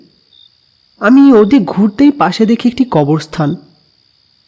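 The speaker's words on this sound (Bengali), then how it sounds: "ঝিঝি পোকার ডাক রাতের আধারে মিশে একটি অশনি সংকেত করছে" Crickets at night near a lonely graveyard give a thin, steady, high-pitched chirr that runs faintly throughout while a voice narrates over it.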